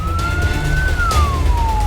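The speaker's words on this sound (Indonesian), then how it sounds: "Raungan sirine mobil pemadam kebakaran dari tim Posko Gabungan Karhutla Kabupaten Kotim" A fire engine siren from a forest-fire response team in Kotim, Central Kalimantan, sounds as one loud sustained wailing tone that rises slowly and then falls, over a heavy low rumble of traffic and engine noise.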